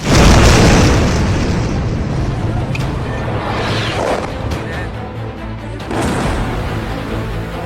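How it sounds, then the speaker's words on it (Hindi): A heavy boom from an explosion at Nur Khan airbase in Rawalpindi, a loud broadband blast at the start that rolls into sustained rumbling noise with a second surge near the end. "रावलपिंडी नूर खान एयरबेस पर धमाका हुआ"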